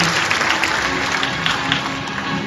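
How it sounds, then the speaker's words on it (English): Audience applause at a dolphin show in a marine park, a loud, dense, steady roar of clapping from a large crowd. "everyone can give Scarlett one more round of applause"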